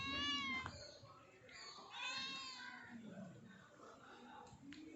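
Several cats meow insistently while waiting to be fed fish heads, overlapping cries close by, with a person talking over them at times.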